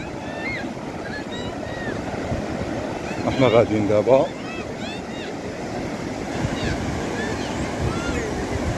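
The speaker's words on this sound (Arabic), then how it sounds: "نتمشاو شوية حتى نوصلو للموج ديال عين دياب، ديال البحر." Ocean surf rolls onto the sand at Ain Diab beach in Morocco as a broad steady wash mixed with wind buffeting the microphone, while people talk over it and a brief louder burst of voices rises midway.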